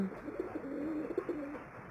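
Pigeons coo close by in a low, throaty, rolling run of repeated calls.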